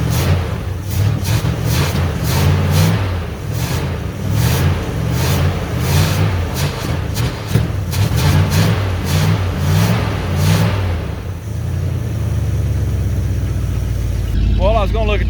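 A 1971 Dodge D100 pickup's engine, abandoned for 34 years, idles roughly while warming up, a loud, close, lumpy pulsing rumble that eases to a steadier hum near the end.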